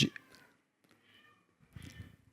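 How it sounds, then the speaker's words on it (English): A house cat meows a few times, soft and close, in a quiet room with some faint talk around it. "My cat has something to say."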